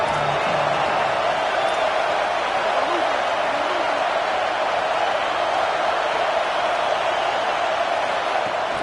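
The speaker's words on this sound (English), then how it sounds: "The roar of the crowd trying to fuel this defense to keep them pinned in their own end" Steady, loud stadium crowd roar from a college football video game fills the whole stretch, a dense continuous wash of cheering with faint commentary-like voices underneath.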